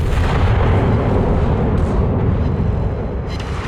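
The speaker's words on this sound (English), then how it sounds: "See the little guns going off?" A warship fires a broadside of its guns in a naval video game: a loud, dense, continuous rolling boom of overlapping blasts that fills the whole stretch and eases slightly at the end.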